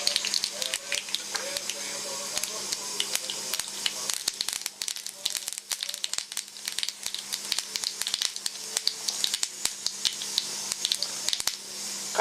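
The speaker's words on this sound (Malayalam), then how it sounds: "കടുക് പൊട്ടിക്കഴിയുമ്പോൾ ഉള്ളി ചേർക്കുക." Mustard seeds splutter in hot oil in a small pan, a steady close hiss broken by dense, rapid crackles and pops that keep going throughout.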